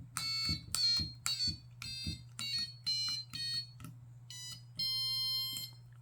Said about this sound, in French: Voyons voir le deuxième son, là c'est l'alarme.